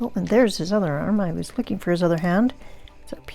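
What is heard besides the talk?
No distinct noise like a dog, phone or traffic.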